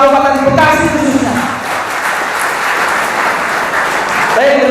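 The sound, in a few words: crowd applause at a labour rally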